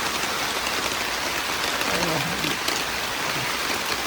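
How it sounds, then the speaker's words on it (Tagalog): Steady rain falls at a lakeside campsite during a motocamping trip, a dense, even hiss of drops on surfaces filling the whole stretch with no break and no speech. "Medyo maulan dito."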